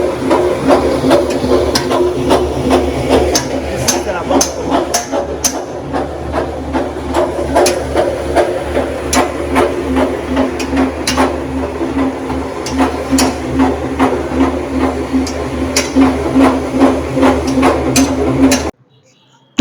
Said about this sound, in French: C'est un mélangeur réalisé entièrement en inox.